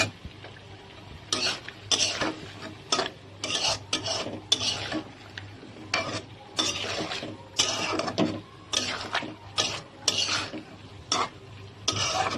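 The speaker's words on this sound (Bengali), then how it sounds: "এটা ভালোভাবে মিশিয়ে দিতে হবে, নেড়ে গুঁড়া দুধটাকে।" Powdered milk being stirred into a pan of mixed vegetables for a chicken vegetable dish, a dense run of repeated scraping, rasping strokes of the spoon against the pan, steady and close, with a faint sizzle and low hum underneath.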